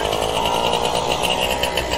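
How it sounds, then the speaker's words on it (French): A small engine on a test bench, started with a power drill fitted with a 14 mm bit, runs at a steady, loud, buzzing idle throughout with no talk over it. "une perceuse, un embout de 14 et hop, c'est démarré"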